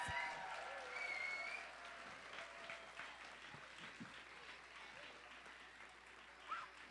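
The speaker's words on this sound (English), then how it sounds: "Can we give one more round of applause to the kindergarten musicians?" Audience applause for kindergarten musicians at a school concert, a steady wash of clapping that holds for about seven seconds at moderate distance, with faint voices mixed in underneath.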